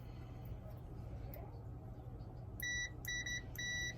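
Three short, clear electronic beeps from a multimeter's continuity tester, sounding in quick succession over a low background hum as a new thermostat for a Whirlpool dryer that is not heating is checked.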